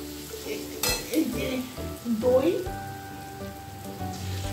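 Onions fry in a pan for a chicken and potato curry, giving a close, steady sizzle with stirring and a brief word or two.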